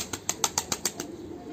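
Pigeons being herded into a coop beat their wings in about seven sharp, evenly spaced flaps close by, followed by a short quiet tail.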